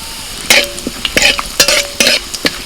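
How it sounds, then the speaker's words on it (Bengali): Dried red chillies and whole cumin seeds tempering in hot mustard oil in a kadai, with a soft sizzle under repeated bursts of spatula stirring and scraping, close and fairly loud. "কড়াইতে অল্প তেল দিচ্ছি সর্ষের তেল তেলের মধ্যে ফোড়নে দিচ্ছি শুকনো লঙ্কা গোটা জিরে"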